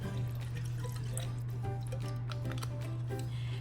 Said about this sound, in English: So right now I'm gonna pour a shot of Hennessy.